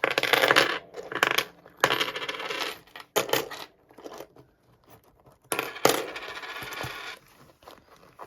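Coins clinking and jingling in bursts as they are shuffled about in a purse, with quiet pauses between the rattling handfuls.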